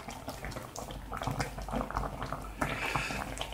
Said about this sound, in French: On laisse couler le jus à l'intérieur de la louche